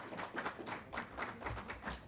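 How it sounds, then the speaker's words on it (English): A conference audience claps to welcome a panelist, a quiet, short burst of applause with a loose rhythmic patter of hands heard from a distance. "With a round of applause."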